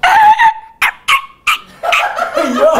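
A person vocally imitates a dog being run over, with yelping, whining dog-like cries broken into short bursts, loud and close.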